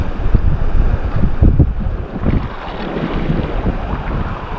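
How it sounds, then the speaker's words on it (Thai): Strong coastal wind buffets the microphone in loud, gusting bursts, with surf and water noise beneath, recorded while squid fishing from the shore at Ko Si Chang island, Thailand; no voices. "ลมค่อนข้างแรงมาก"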